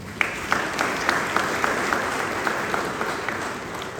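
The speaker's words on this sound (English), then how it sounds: "Can you all clap for yourself?" A crowd at a funeral gathering claps steadily for several seconds, the applause dense and close with a few sharper individual claps standing out.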